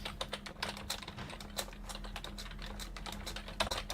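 Computer keyboard typing picked up by a microphone turned right up for Discord, a steady run of quick, light key clicks over a low constant hum, fairly faint and with no voice.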